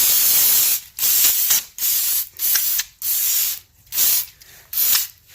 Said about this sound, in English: for the brake pads, we're going to use Brake Quiet spray